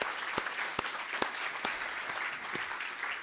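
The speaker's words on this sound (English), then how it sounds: "big round of applause" Applause from a live citizens' assembly audience, a steady dense patter of many hands with a few sharper claps standing out, moderately distant and even throughout.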